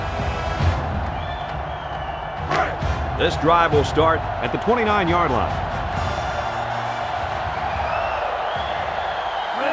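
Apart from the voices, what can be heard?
stadium crowd noise in NCAA Football 07 video game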